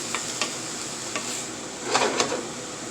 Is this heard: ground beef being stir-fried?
yes